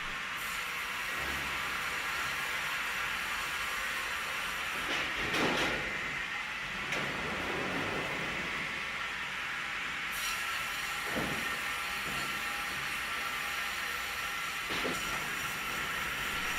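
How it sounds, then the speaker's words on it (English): A sawmill carriage feeds a giant timber log through the blade, giving a steady, loud mechanical hiss and rumble with a few sharper clanks and surges along the way. "the carriage advances automatically, feeding the log through the blade at an optimal rate"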